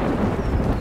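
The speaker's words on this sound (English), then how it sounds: "I knew it was going to... rain!" Cartoon thunder and rain, a brief loud rumble with a wash of rainfall, heard alone without any voices.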